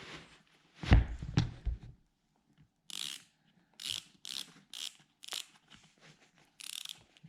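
A Boa-style spin dial on a retrofitted boot lacing system clicks as the laces are tightened, with bursts of short ratcheting clicks separated by pauses after some handling noise at the start.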